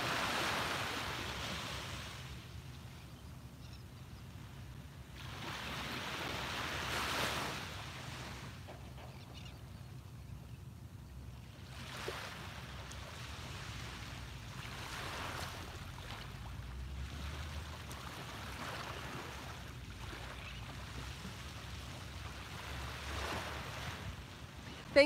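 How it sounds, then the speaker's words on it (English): Soft ocean waves wash on a shore in a steady, distant murmur, with gentle swells rising and falling every few seconds and light wind noise, no voices. "soak in the colors and the sounds of the waves for one more minute"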